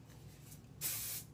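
A single short burst of hairspray hisses close by onto a curly updo, lasting under half a second in an otherwise quiet room.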